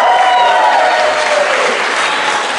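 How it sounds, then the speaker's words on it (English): Audience applause fills a comedy show crowd, a steady, dense wash of clapping that holds at full strength for a couple of seconds and tapers only slightly near the end. "Round of applause."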